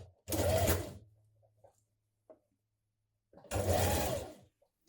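Sewing machine stitching a blouse facing in place in two separate bursts of about a second each, a fast steady whirr of the needle with faint clicks and handling noises between runs.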